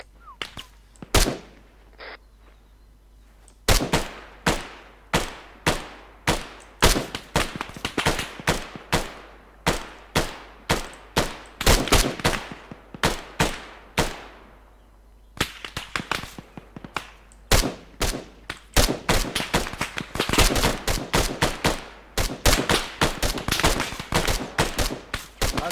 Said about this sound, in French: Altor, Marty, tir de suppresse